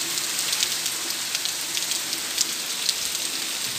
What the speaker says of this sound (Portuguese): Chuva, menino. Olha aí, ó.